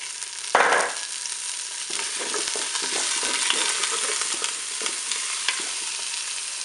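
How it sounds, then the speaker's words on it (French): Onions are added and browned in a Cookeo multicooker alongside a pork roast. A sharp clatter as they drop in gives way to a steady sizzle with scraping stir strokes throughout. "je vais ajouter maintenant eh bien, les oignons pour les faire dorer"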